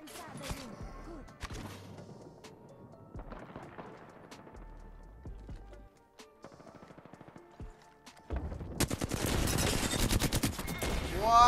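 Gunfire in Apex Legends, with scattered single shots and short bursts early on, then a long, loud rapid automatic volley at the end amid game effects.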